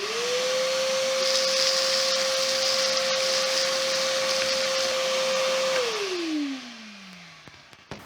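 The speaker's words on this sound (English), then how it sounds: "So let's get this vacuumed out of here." Shop vacuum drawing rotten wood debris out from under a 122-year-old Victorian porch, a steady loud whine with a hiss of suction that holds, then winds down in pitch as the motor shuts off near the end.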